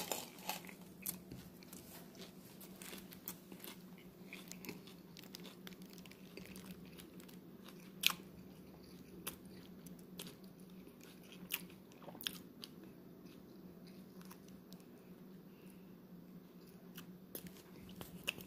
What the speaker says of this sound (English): I'm gonna start munching on this.